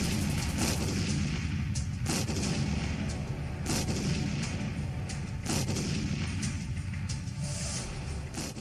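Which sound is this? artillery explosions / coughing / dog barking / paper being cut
artillery explosions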